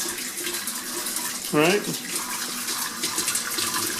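A newly installed clothes washer fills with water, a steady hiss of running water under a brief spoken remark and a short rising vocal sound.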